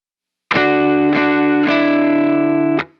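Electric guitar through a Fender JA90 with pitch-shifting pedals and a Timmy overdrive set just barely on, followed by a Strymon Iridium amp simulator, plays a few sustained, ringing chords restruck in succession, loud and close with a light touch of drive.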